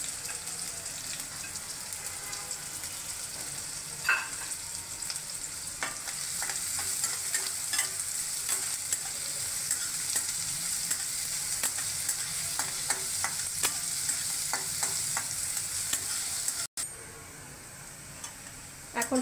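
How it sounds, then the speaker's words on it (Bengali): Chopped onion fries in oil in a pan for an aloo patties recipe, giving a quiet, steady sizzle broken by scattered ticks and scrapes of stirring. "আমি এখানে একটা পেঁয়াজ ভালো করে কুচি করে রেখেছিলাম,"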